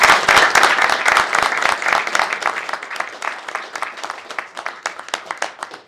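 Applause at a school board meeting for the SAP team, starting as a full burst of many hands and thinning into fewer, distinct individual claps as it fades.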